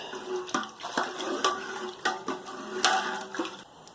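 Candy syrup being stirred into Belgian Dubbel wort in a brew pot: close, repeated scraping strokes and liquid sloshing with sharp clinks against the pot at a steady stirring rhythm.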